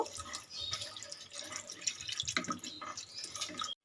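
Blended mustard water from a mixer jar is poured into a pan of rui fish curry, a continuous close splashing pour that runs for a few seconds and then stops abruptly.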